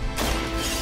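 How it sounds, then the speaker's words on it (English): A quick melee attack striking a minion in the video game Marvel's Midnight Suns, a single sharp crash-like impact followed by a brief noisy burst. "And then we do another quick attack on this minion."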